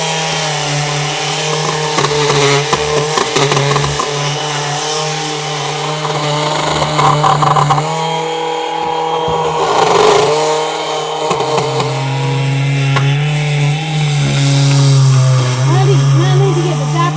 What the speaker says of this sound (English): we're going to use the mouse sander because it's got this point on it, and we can get into the crevices to get some of this wood putty off